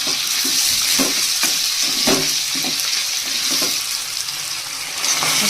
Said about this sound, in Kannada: ಈಗ ಒಂದು ಐದು ನಿಮಿಷ ಎಲ್ಲನೂ ಚೆನ್ನಾಗಿ ಫ್ರೈ ಆಗಬೇಕು